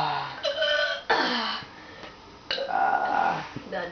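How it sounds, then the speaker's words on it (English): A boy burps loudly several times in a row, long raspy belches broken by short pauses, close to the mic, with a voice talking in between. "those are dirty burps, man"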